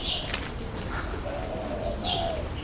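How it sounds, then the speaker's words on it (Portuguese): Pigeons coo softly in Macau, with a few higher chirps from other birds over a steady outdoor background hum. "Parece uns pombos."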